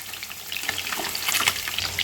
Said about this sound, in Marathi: चार चार पीस टाकून तुम्ही छान प्रकारे त्याला तळून घ्या कमी आचेवरच तळायचं आहे